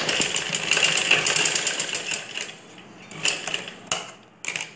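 Sewing machine stitching a ladies' blouse, running in fast rhythmic bursts of mechanical clatter that stop and restart, close and fairly loud.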